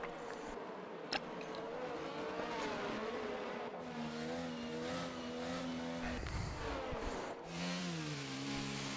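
Formula 1 race cars lapping Suzuka in the video game F1 22, a continuous loud engine drone with rising and falling revs through corners, a brief skid-like burst near the middle, and no talking.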